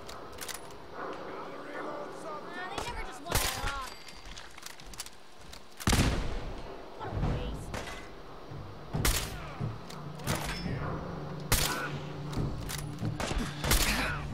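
Gunfire from short-range sniping in the video game Fallout 4: sharp, loud shots at irregular intervals, with busy game effects and other sounds between them.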